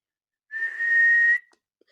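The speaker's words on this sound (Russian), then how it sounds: "сразу просто свистеть" A person whistles with the tongue curled against the lower teeth, producing one steady, clear, fairly loud tone lasting under a second that rises slightly in pitch and ends with a short fading tail, alone against silence.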